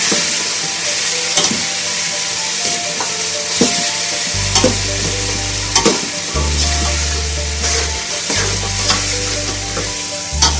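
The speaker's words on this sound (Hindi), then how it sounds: "अब इसको मैं अच्छे से भूनूंगी अच्छी तरह से" Ground spices and tomatoes fry steadily in a pan for a meatball kofta curry, a loud, continuous sizzle with occasional stirring scrapes and a low hum in the background.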